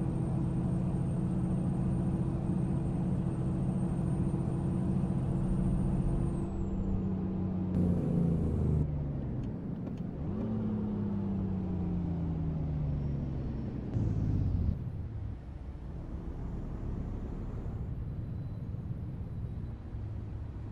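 A truck in American Truck Simulator rumbles with a steady low engine drone that shifts pitch through gear changes, with a brief hiss like an air brake, loud and close with no talking.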